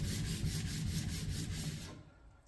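Steady rhythmic scraping of a Cheolma 110mm drawknife blade rubbed back and forth on a 6000-grit diamond sharpening stone, close and continuous, fading to near silence at the end.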